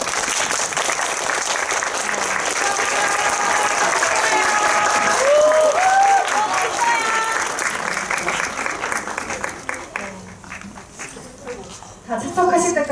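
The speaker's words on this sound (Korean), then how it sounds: "큰 박수로 맞이해주세요." Audience applause welcoming the cast and director of the film Miss Baek to a post-screening talk at a Megabox COEX cinema in Seoul: sustained dense clapping from a large crowd that thins toward the end, with voices and whoops mixed in.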